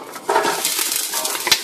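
Vegetables tipped into a hot pan on a high stovetop burner for a low-fat chicken ramen bowl, a brief close clatter and rustle with a sharp tick near the end.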